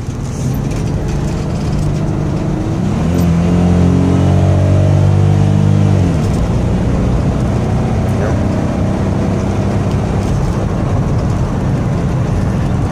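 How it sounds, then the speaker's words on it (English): A Chevrolet Uplander minivan engine revs up and accelerates at high speed, rising in pitch for a few seconds before settling, with steady road noise throughout; the engine tends to cut out, triggering a check engine light. "And I'll give it some gas, see if we can get it to cut out here at high speeds."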